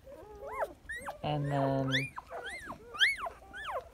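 Day-old puppies from a litter three days old whimper and squeal in high, rising cries, close and fairly loud. A person speaks briefly over them.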